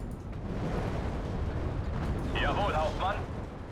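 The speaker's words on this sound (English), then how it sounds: "That is the mortars right there, but we just can't do anything." Dull mortar and artillery booms rumble through the battlefield audio of the World War II strategy game Steel Division 2, a steady low roar with a brief whining mechanical tone near the end.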